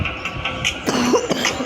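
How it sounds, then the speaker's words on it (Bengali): Two or three short coughs from a nearby person, bursting out over a steady background of mobile shooting game audio with no talk. "একটু কাশি হচ্ছে তো কিছু মনে করো না।"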